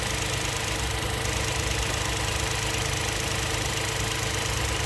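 A Hyundai Bayon's 1.0 turbo engine idles steadily at normal revs with its DCT gearbox, giving a constant low hum with a faint mechanical vibration, heard close up with no talk.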